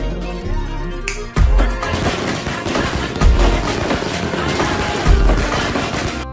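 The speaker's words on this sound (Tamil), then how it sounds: "சரவெடி எப்படியாடா வெடிப்ப?" A string of Diwali saravedi firecrackers rips through a long, dense rattle of sharp bangs that sounds like gunfire, loud and close, with a few heavier booms standing out along the way.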